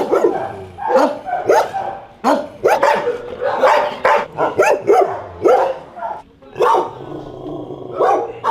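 Many dogs bark loudly and continuously in the echoing enclosed dog area of an animal shelter, overlapping yelps and deep woofs with occasional growls.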